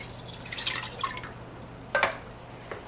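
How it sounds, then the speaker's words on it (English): Water from emptied milk cans splashing into a cooking pot for custard, heard as a few light, close drips and splashes over a quiet kitchen background. "Refill the cans with water"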